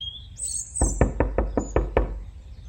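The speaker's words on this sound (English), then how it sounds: "hurrying to the door at the postman's knock" Knocking on a door, a rapid series of about seven sharp raps close by, followed by a short silence, with no talking.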